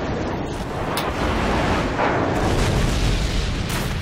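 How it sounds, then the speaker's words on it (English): Airstrike explosions in Call of Duty 4 during a team deathmatch, a dense continuous rumble of heavy booms and blasts sustained loud throughout, with no voices. "Friendly airstrike on the way! Come on, airstrike."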